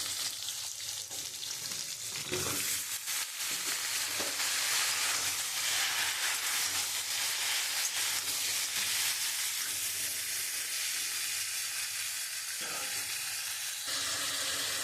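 Potato pieces and chopped ridge gourd sizzle in a frying pan, a loud, dense hiss of frying that runs continuously with a few soft scraping stirs and small bumps, close by and without speech.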